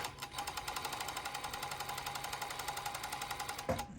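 An overlocker serger stitching and trimming elastic runs with a rapid, steady mechanical chatter at close range, stopping abruptly with a clunk near the end.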